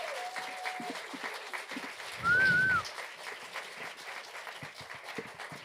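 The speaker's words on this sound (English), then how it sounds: "Give her a huge round of applause. Big round of applause, everybody." A theatre audience at a Broadway-style concert gives a singer a round of applause, soft, distant and fairly steady clapping with a brief whistle-like tone and a short low rumble partway through.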